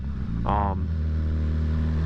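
A tuned 2018 BMW S1000RR with a full aftermarket exhaust and no catalytic converter idles nearby with a steady low rumble, a brief sharper burst of engine noise rising over it partway through.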